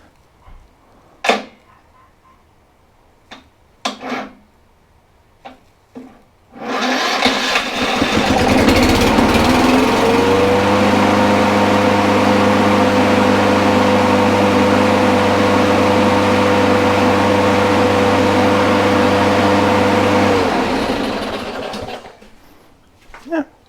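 A Kohler engine with an auto choke cranks and then catches after a few sharp clicks and knocks. It settles into a loud, steady running drone for about fourteen seconds and then winds down.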